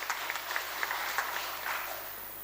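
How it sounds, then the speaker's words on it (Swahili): Clapping at an annual general meeting of a Sacco: a short round of applause from the gathered members, moderately loud and fairly even, with scattered sharper claps over about two seconds and no talking. "Tumpigie makofi mazuri."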